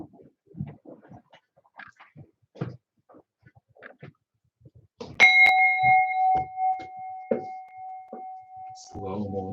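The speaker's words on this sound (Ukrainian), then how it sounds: "Тож дзвоніть дзвони." A bell rings out during a festive folk-religious fire ceremony, one bright struck tone sustaining for several seconds after a stretch of speech, with chanting voices continuing beneath it.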